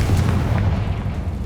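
A Confringo blast spell explodes in Hogwarts Legacy, a deep, booming rumble that sustains loudly across the short moment with no voices.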